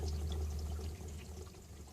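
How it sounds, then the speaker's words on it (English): Water from a hose on the roof runs down the pillar of a BMW X3 with a leak, a soft, steady pouring trickle, close and quiet, with no talking. "As you can see the water running down the pillar there right now."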